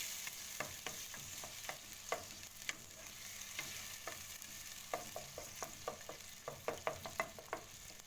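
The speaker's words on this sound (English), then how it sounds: "Once you've mixed it up like that, you let the tomatoes cook." Tomato sauce sizzles steadily in a pan while a utensil scrapes and taps through it in irregular stirring strokes, close but fairly quiet, with no voices.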